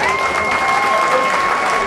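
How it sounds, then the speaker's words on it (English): Spectators at an amateur ABA boxing bout held by Newham ABC break into loud, steady applause, with faint whistle-like tones carried over the dense clapping. "Would you want to give a big round of applause once again,"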